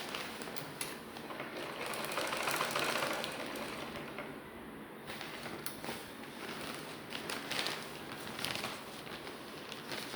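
A sewing machine stitches on paper in quiet, rapid mechanical patter, running in short bursts with brief pauses in between.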